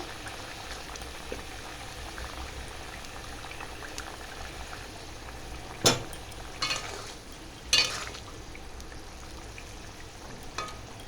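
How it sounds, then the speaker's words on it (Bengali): Water boils at a steady roll in a pot for a thin rohu fish curry, a continuous close bubbling broken by a few brief knocks and clinks partway through, with no one speaking. "জল দিয়েছি, এবার এটা জলটা ফুটে গেলে মাছটা ছেড়ে দেব।"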